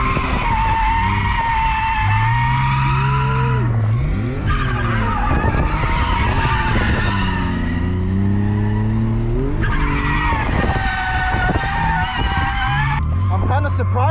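A BMW E46 wagon drifts around a hairpin in second gear. The engine revs loudly and up close, and the tires squeal in long skidding bursts. A voice is faintly present under the noise.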